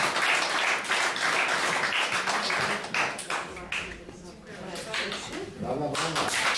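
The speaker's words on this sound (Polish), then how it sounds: "Także ogromne brawa i wielkie," Concert audience applauding at an operetta gala, dense clapping that swells loud, dips partway through, then rises again while a presenter speaks over it.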